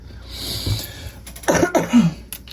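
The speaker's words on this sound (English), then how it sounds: "Excuse my dry cough, guys." A few dry, hacking coughs up close, short bursts clustered together after a quieter stretch, with no talking.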